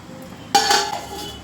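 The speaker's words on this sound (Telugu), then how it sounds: "మూత పెట్టుకున్నాను." Metal lid set down on a cooking pot of chicken fry piece biryani, a single clear clank followed by a brief ringing rattle as it settles, with no voices.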